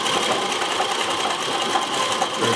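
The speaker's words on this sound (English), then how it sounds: "sewing with manual zigzag like this. You can get going at a fairly good speed" A Consew CN2053R-1A industrial sewing machine driven by a domestic treadle runs steadily at a fairly good speed while stitching a manual zigzag, giving a loud, continuous, close mechanical whirr and rapid clatter with no pauses.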